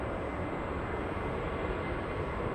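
A JetBlue airliner departing Los Angeles for New York, a steady broadband engine roar held at even loudness throughout, distant and continuous with no voices.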